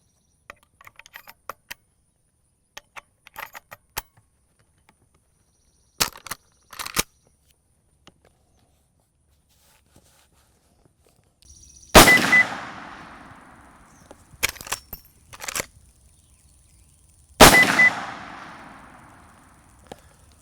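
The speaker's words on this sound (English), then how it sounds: "Now let's load the rifle and get our next round of sighters down range." A scoped rifle being loaded and fired while zeroing: scattered metallic clicks and bolt clacks, then three loud sharp gunshots with ringing decay, each separated by a few seconds of quiet.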